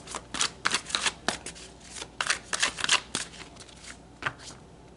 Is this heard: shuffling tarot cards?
yes